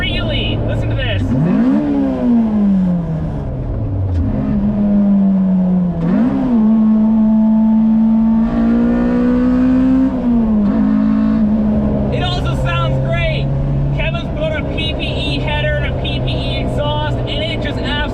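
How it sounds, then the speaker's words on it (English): A tuned Japanese-market Honda K20A engine swapped into a Toyota MR2 Spyder revs high, rising and falling through several sharp climbs and sustained wails, loud and close, with a rougher, throatier tone near the end. "this engine just revs so freely"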